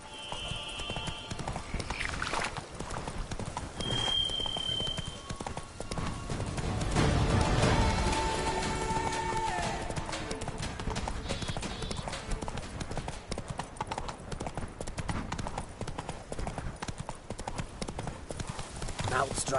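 Roach the horse's hooves clip-clop in a steady galloping rhythm through the game world of The Witcher 3: Blood and Wine, with a voice speaking over the hoofbeats and some background game sounds.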